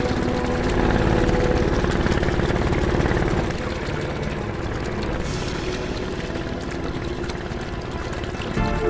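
A Vietnamese river boat's motor chugs loudly and steadily at close range as the boat pulls in to shore, with a watery churning wash under the engine noise.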